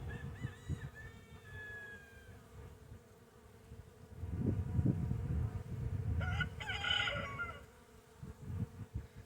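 Honeybees buzzing around their hives as they return laden with pollen, a steady outdoor hum with birdsong and a rooster crowing somewhere in the background.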